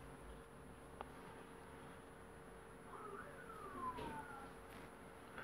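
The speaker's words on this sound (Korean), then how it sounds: "밖에 경찰차도 지나다니고 버스도 지나다니고 뭐 그런 소리가 나요" A police car siren drifts in faintly through an open window from the street outside, one distant wail rising and falling over a quiet indoor room tone.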